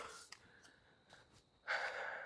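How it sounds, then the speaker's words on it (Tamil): Heavy, labored breaths from someone trekking uphill toward a waterfall, several faint puffs and snorts followed by a louder, longer exhalation, close to the microphone against quiet outdoor background. "மூச்சு வாங்குது."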